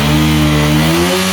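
A TVS Apache RTR 4V motorcycle engine revs close by, a loud, steady tone holding high and then easing slightly, with no talking.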